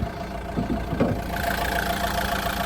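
A 2013 Renault Scenic minivan engine idles steadily at close range, a continuous low hum with a faint mechanical ticking and no voices.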